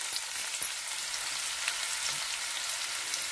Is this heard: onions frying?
yes